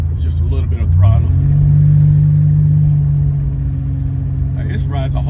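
A Buick Grand National engine running close by with a small blip of throttle: a steady low hum that swells briefly, with short bursts of voice at the start and end.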